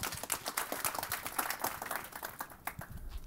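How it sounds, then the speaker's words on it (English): An audience at a conference talk on Ember at Netflix claps together, a dense patter of applause that stays fairly steady and then thins out toward the end. "let's give him a round, a big round of applause"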